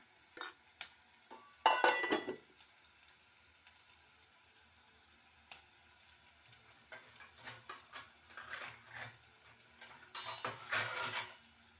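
Mustard seeds and cumin spatter and pop in a hot pan, sharp crackling bursts near and clear, mixed with metal utensil clinks and scraping; no talk.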